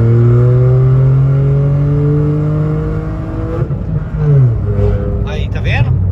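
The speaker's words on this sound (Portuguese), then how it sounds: "Quer ver, ó, vou dar um pé fundo." A Volkswagen up! TSI engine with a suspected fault is floored at full throttle, a loud close droning rev that climbs steadily and then drops off, and someone speaks briefly near the end.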